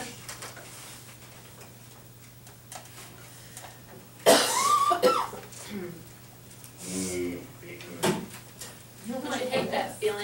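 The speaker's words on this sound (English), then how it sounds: "I hate that feeling like you can never clear your throat." Coughing and throat clearing close to the microphone, with a loud burst of coughs partway through and further throaty sounds, mixed with speech.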